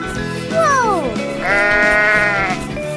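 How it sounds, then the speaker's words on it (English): A sheep bleats twice in a 3D animal video game, first with a short falling cry and then a longer wavering one, loud and close over steady background game music. "sheep"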